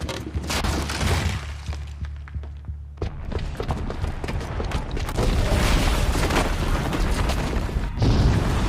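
A booby-trapped bomb goes off in Horizon Zero Dawn, a deep low rumble giving way to a heavy boom with shattering debris and mechanical clatter, loud and sustained, then a second surge near the end.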